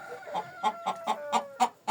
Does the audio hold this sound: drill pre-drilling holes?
no